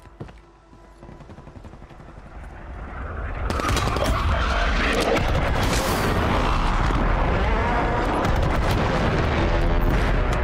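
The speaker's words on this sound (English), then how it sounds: "Mortar strike inbound now." A mortar strike rains down in Call of Duty: Warzone on Urzikstan: quieter gunfire first, then heavy, continuous explosions and booming rumble building loud and sustained to the end.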